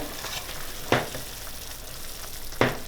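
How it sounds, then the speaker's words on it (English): A spoon stirs a pot of simmering pumpkin and potato soup, two short scraping strokes about a second and a half apart over a soft, constant bubbling hiss. "So I'm just going to give it a stir."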